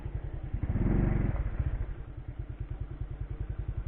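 A motorcycle engine idles nearby in a steady, rapid low putter, briefly swelling louder with a rev-like surge near the start before settling back to an even idle, with no talk over it.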